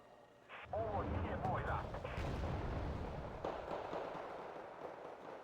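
Heavy artillery booms in a video game, a loud blast followed by rumbling, crackling aftershocks and scattered later reports, all close and dense.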